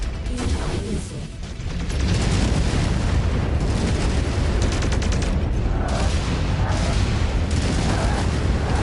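Dense, rumbling barrage of missile explosions and booms from battling mechs in MechWarrior 5: Mercenaries, a continuous loud roar of detonations that swells after the first second and holds steady.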